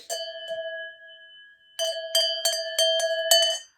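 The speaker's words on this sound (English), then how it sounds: "a fantastic cowbell that we had." A cowbell rings loudly and close by, first a short strike that fades, then after a pause a fast run of repeated clangs with bright metallic overtones.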